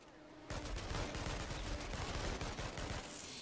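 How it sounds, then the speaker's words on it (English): Dense, rapid gunfire rattles without pause in the InFAMOUS: Second Son video game, a loud continuous barrage of overlapping shots after a brief quiet start. "Why am I getting shot at?"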